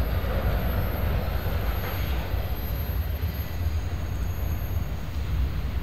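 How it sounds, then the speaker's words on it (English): A train rushes over a railway crossover at high speed, producing a steady, loud broadband roar with continuous rumble and no voices. "I think that's the fastest I've seen any train take this crossover"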